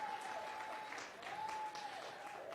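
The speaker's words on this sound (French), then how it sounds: "On peut l'applaudir, mesdames et messieurs." Audience applause breaks out at a small live song evening honouring a singer-songwriter, brief warm clapping from a modest crowd heard fairly close, with a faint tone underneath.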